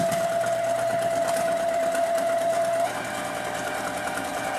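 A sewing machine runs continuously at close range, stitching a flamingo wreath attachment with a fast, steady mechanical whir and rapid needle chatter. It drops slightly in pitch and level near the end.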